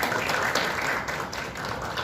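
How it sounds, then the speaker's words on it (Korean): Guests at a Korean policy seminar on pragmatic diplomacy and a peace economy receive a round of welcoming applause. The clapping is close, dense and even, with no talking over it. "참석자들께서는 환영의 박수를 부탁드리겠습니다"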